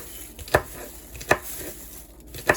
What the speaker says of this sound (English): I'm going to proceed with cutting some celery